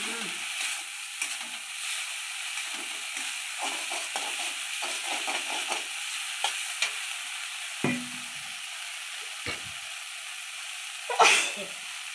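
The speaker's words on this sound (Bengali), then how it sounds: "মশলাটা কষা কষা হয়ে এসেছে বলে জল দিয়ে দিচ্ছে" A little water goes onto spice masala frying in a pan, giving a soft steady sizzle that runs throughout with scattered scraping stirs and a louder hiss near the end.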